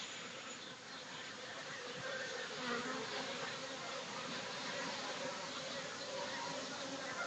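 A strong honeybee colony flying at an apiary with acacia nearby, a dense, steady outdoor buzzing hum from many bees at moderate distance, continuous throughout.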